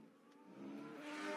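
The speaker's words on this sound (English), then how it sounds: "That's the sound of the V6 turbocharged engine for Zhou Guanyu," A Formula One V6 turbocharged engine in Zhou Guanyu's car, faint and distant at first, swelling steadily louder as the car approaches, a rising whirring note with no talk over it.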